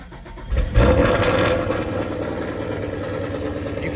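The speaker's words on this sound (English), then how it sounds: "Let's hop in the car now, give her a start up" A car engine cranks and catches with a loud burst, then settles into a steady idle that runs on alone.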